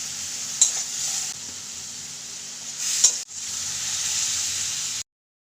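Sour yogurt goes into a homemade tilapia fish curry masala frying in a pan, giving a steady close sizzling hiss with a couple of brief stirring scrapes before it cuts off to silence.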